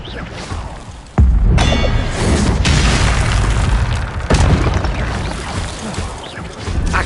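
Expelliarmus spell cast in Hogwarts Legacy: a sudden loud boom hits, then a sustained roaring rumble with a second heavy impact a few seconds later, close and forceful.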